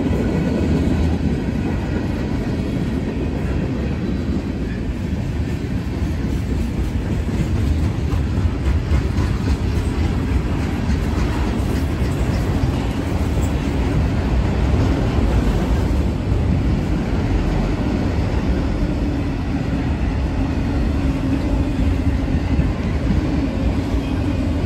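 A CSX freight train passes on the rails, a loud, continuous rumble and roll of wheels that holds steady for the full twenty-five seconds, with no voices.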